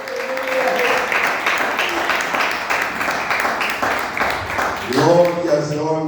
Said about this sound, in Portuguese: aplauda o nome do Senhor pela sua palavra